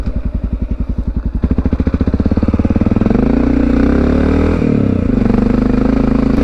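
A Honda XR650L single-cylinder motorcycle thumps steadily, then its engine note climbs and settles into a continuous drone as it rides off, loud and close with no talk over it.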